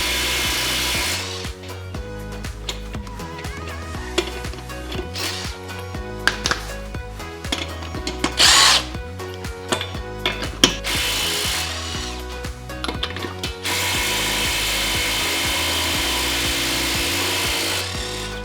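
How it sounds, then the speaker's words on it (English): A Ridgid impact driver on a higher impact setting breaking loose and spinning off over-tightened car wheel lug nuts, with loud repeated bursts of hammering whir separated by short pauses, close up and without talk. "Had to bump it up to higher impact and just give it an opportunity to break them free"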